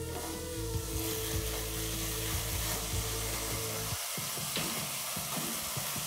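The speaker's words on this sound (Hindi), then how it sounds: "अब थोड़ी देर इसे मैं फुल फ्लेम में फ्राई कर लूँगी।" Gatte, gram-flour dumplings for a curry, fry on full flame in a pan with a steady close sizzle, a low rumble in the first part easing off toward the end.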